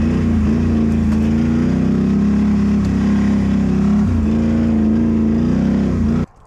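A vehicle engine runs steadily while pulling a sled over snowy, melting ground, a loud continuous drone with a slight dip in pitch midway that cuts off abruptly near the end.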